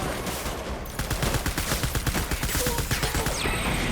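Gunfire in the Death Stranding Director's Cut video game, with dense rapid bursts of automatic shots close up and loud, rattling almost without pause.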